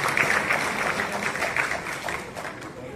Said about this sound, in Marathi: जरा जोरदार टाळ्या मॅडमसाठी.